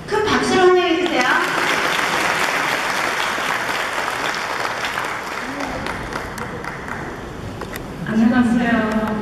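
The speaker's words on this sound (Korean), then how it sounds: "큰 박수로 환영해주세요." An audience in a church hall applauds loudly and steadily to welcome a speaker at a senior mentoring night, with voices talking over the clapping at the start and end.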